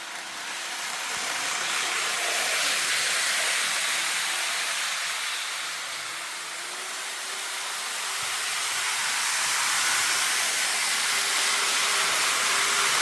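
A model railway E5 bullet train runs round a full circuit at full power, giving a steady, airy whirr and hiss that swells and dips slightly as it laps the track, with no talking.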